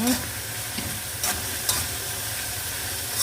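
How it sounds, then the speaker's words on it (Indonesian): A home-style Indonesian dish of chili and soaked salted ingredients with added sugar sizzles steadily in a pan, with a few brief scraping stirs over the constant frying hiss. "Kita aduk semua, biarkan dulu sampai dia matang."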